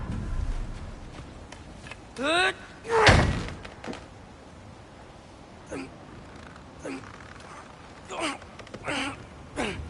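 In a video game a frozen door is forced with a few heavy thuds and slams, one loud bang standing out among smaller knocks, with brief voices in between.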